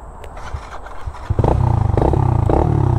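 Dirt bike engines from a Kawasaki KX85 and a KLX110L riding laps on trails, starting softer and rough, then rising into a loud, steady, buzzing engine drone close by.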